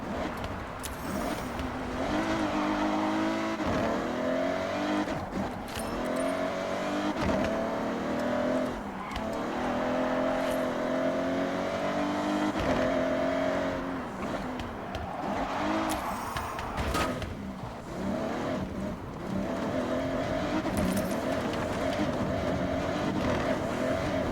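Car engine revving and shifting through gears as it drives off-road through snowy mountains in Forza Horizon 6, steady close engine drone rising and falling in pitch over about twenty seconds.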